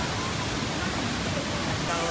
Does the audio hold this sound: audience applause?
no